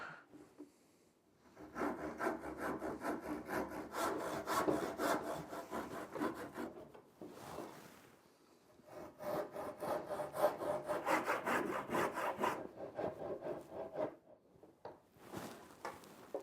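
Hand saw cutting through wood for bed corner posts aboard a boat under restoration, with steady back-and-forth strokes in two long bursts separated by short pauses, close and clear with no talk.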